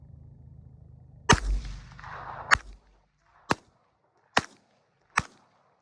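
Five handgun shots crack at a target 50 yards downrange, sharp loud reports spaced roughly a second apart, each with a brief echo tail, recorded on an outdoor range without talk.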